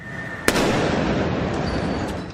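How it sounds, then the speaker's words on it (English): An explosive device detonating in Elizabeth, New Jersey: one sharp blast followed by a long, dense roar and crackle that fills the air and slowly fades, with no voices. "WPIX caught the moment one of the devices in Elizabeth, New Jersey detonated early Monday."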